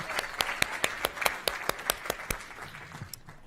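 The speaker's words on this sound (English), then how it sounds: "Please give a round of applause for Principal Padilla." A few people clapping at a school recognition meeting, sharp, evenly spaced claps in a steady rhythm against soft background murmur, fading out toward the end.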